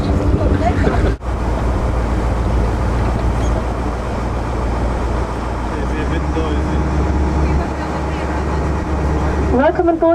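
A tour boat pulls away from the dock at night. A steady engine drone and water wash run throughout, with brief knocks near the start and end and faint voices in the background.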